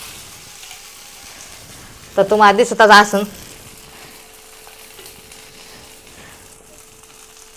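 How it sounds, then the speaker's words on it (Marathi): Fasting dosa batter sizzles softly on a hot tava over a low gas flame, a faint steady frying hiss running throughout while someone talks briefly over it in the middle. "तर मी आता डोसा टाकला तव्यात"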